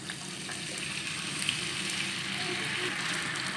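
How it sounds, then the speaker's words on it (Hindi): Finely chopped potato fries in about half a cup of hot oil in a pan, a steady close sizzle that holds even throughout with faint crackles and no talking. "अच्छी तरह फ्राई कर लेंगे आलू को।"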